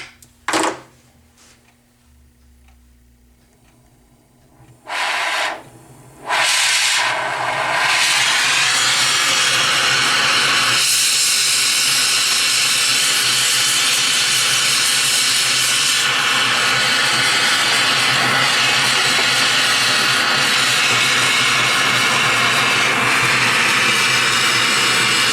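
A gas torch roars on to melt 115 grams of silver in a tilting ingot mould, brief bursts at first, then a steady loud hissing blast that continues alone.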